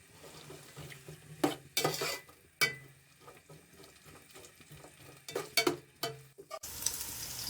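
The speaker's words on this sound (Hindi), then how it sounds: "पुलाव के लिए हम प्याज को हल्का सा ब्राउन करेंगे।" Roughly chopped onions frying in a pan for pulao, soft sizzling under intermittent spatula scrapes and clacks against the pan, with a burst of louder hissing at the very end.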